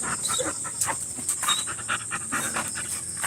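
A dog that is in poor condition and barely moving pants in quick, steady, rhythmic breaths close by, with no talking.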